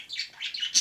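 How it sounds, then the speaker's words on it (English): A quick burst of high, thin chirps and tweets from pet birds indoors, fairly close and clear, lasting under a second. "I'm sorry about the birds. I forgot to cover them up before I started doing this video."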